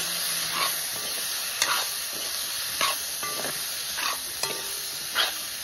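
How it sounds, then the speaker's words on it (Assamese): Local potatoes frying in a hot wok while being stirred with a spatula, a steady sizzle under several distinct scraping strokes at irregular intervals, close and fairly quiet. "আলুটো যিহেতু আপোনাৰ লোকেল হয় ন তো অলপ টান হয় আলুটো সেইকাৰণে অলপ টাইম বেছি মানে ভাজিব লাগিব"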